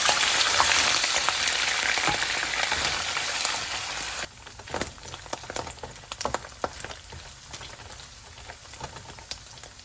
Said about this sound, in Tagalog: Kapag mainit na ang ating kawali, lagyan natin ang ating oil.